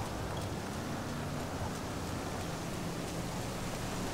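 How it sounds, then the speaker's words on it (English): Heavy rain pours down as a dense, unbroken wash of hiss, loud and steady throughout with no voices. "When is this rain gonna stop? It looks pretty heavy."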